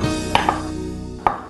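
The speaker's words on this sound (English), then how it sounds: "So I'm just going to chop these tomatoes so that they aren't too finely chopped." Knife chopping tomatoes on a board, three crisp close taps with an uneven rhythm, with no talk.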